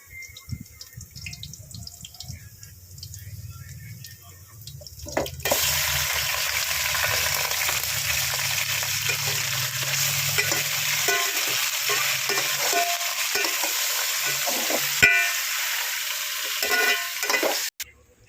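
After a quiet start with low rumbling, a loud, steady sizzle of chicken frying in a hot pan with sautéed onion and ginger takes over, with occasional clinks and stirring.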